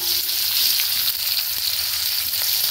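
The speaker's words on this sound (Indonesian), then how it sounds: "Goreng saja." Slices of meat fry in a pan, giving a loud, continuous close-up sizzle with no voices.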